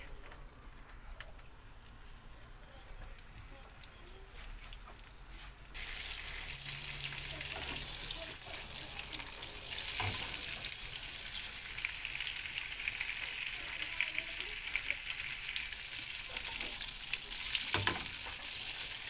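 Butter sizzles and crackles in a hot pan, starting quieter and growing into a steady, bright hiss partway through, with occasional stirring clinks.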